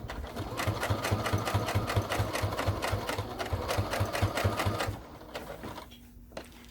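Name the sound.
sewing machine stitching armchair caddy fabric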